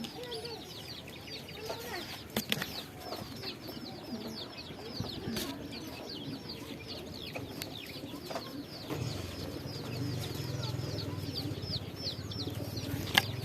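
Pigeons of a champion line in a loft coo and murmur in a soft, continuous layered chorus with scattered wing flaps and clicks, moderately close and fairly quiet, with a low hum rising toward the end.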